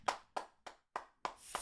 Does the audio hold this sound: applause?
yes